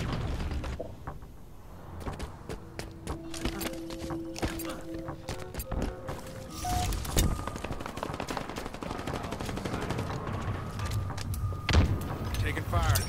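Gunfire in Halo Infinite multiplayer crackles in sharp bursts, mixed with mechanical clanks and sliding metallic tones, moderately loud, with game announcer-style voices briefly present.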